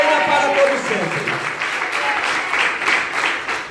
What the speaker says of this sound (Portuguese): Bate as palmas e glorifica o nome do Senhor